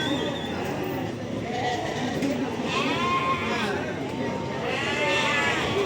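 Sheep bleat repeatedly at a busy sheep and lamb market in Barda, with wavering calls rising over a constant crowd murmur and talk throughout.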